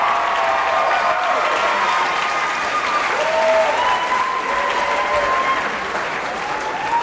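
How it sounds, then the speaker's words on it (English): Audience at a college stage hypnosis show applauds steadily for about seven seconds, a dense, even wash of clapping with some crowd noise and faint voices mixed in. "How about a big round of applause?"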